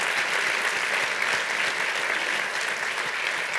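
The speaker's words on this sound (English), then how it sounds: "And I'll clap to that." A large audience claps steadily and densely for the whole stretch at a public conversation event, a continuous even roar of applause with no voices breaking through.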